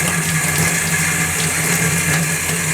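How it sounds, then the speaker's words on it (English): Tap water runs steadily into a sink while the temperature is being adjusted, a constant close rushing stream that continues unbroken for the whole stretch with no voices. "Alright, let me regulate this water here."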